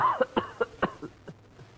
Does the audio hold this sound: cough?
yes